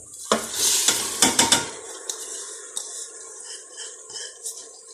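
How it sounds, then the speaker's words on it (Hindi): Moong and masoor lentils tipped into sizzling masala in a pan for Punjabi-style daal, a burst of clattering and hissing as they land, then a quieter sizzle with occasional spoon scrapes and taps against the pot. "अब मैं मूंग और मसूर की दाल डालने लगी हूँ"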